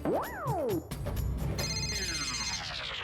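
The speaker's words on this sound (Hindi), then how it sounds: "मेरा मोबाइल बज रहा है भाई" A mobile phone rings on the set of a Hindi TV comedy, playing a melodic electronic ringtone with sweeping tones. The ringtone is loud and close and runs through the whole stretch without talking.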